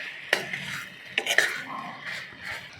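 Soya chunk keema being stirred and mashed in a pan, with a few sharp spoon scrapes and clinks against the metal amid soft, continuous shuffling, close and fairly quiet.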